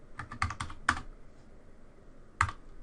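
A command is typed on a computer keyboard in a quick cluster of close, crisp key clicks, then a pause, then one more short burst of keystrokes in a quiet room.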